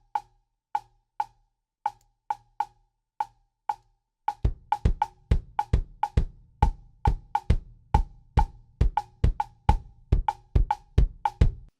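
A rumba clave pattern clicks alone in sharp, dry strikes, then a deep kick drum repeating in groups of three joins under it, the two layers interlocking in a dense, fast polyrhythmic groove.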